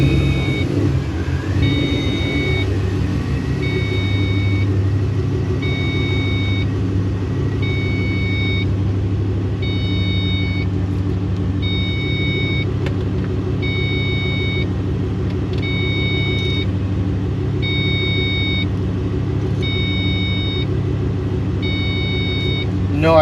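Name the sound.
procharged Ford Mustang GT engine on test drive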